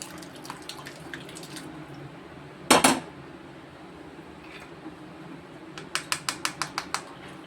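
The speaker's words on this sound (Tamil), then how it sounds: "இப்போ நம்ம வந்து ஒரு பாத்திரத்தை வச்சு இதில் அப்படி ஊற்றி வடிகட்டுவோம்." While liquid is poured and strained into a pot for mango rasam, dishes clatter in a short loud burst, then a quick run of sharp metallic taps, like a utensil knocking a pot, over a low background hum.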